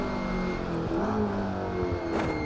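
An Aston Martin Vulcan's engine pulls hard under acceleration, a loud, rising multi-toned roar with shifting harmonics and a brief sharp burst near the end.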